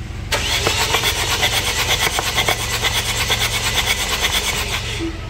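Diesel engine starter motor cranking steadily during an injector spray test, a loud close whirring grind with rhythmic pulses that runs on without the engine firing, then cuts off abruptly.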